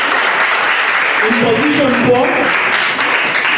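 Audience applause at a debate championship results announcement in Ibanda, steady dense clapping throughout with a voice speaking over it.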